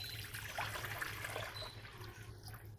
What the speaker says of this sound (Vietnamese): Mình sẽ bắt một cái chảo để trộn mì và mình cho vào đây 2 lít nước.